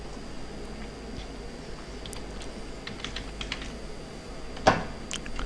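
Keys on a computer keyboard tap in quick, uneven bursts while text is typed into MS Word 2007, faint and close, with one sharper louder keystroke near the end.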